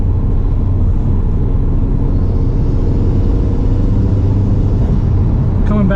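A modified Mk1 Audi TT 225 8N Quattro cruising a city highway at night, heard from inside the cabin as a constant, loud low engine and road drone with no break.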